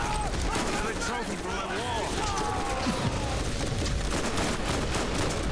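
Gunfire in the video game Borderlands, a busy clatter of repeated shots and booms with whirring effects, mixed under players talking.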